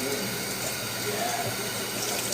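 Water runs steadily from a tap during handwashing, a constant close hiss and splash with no breaks.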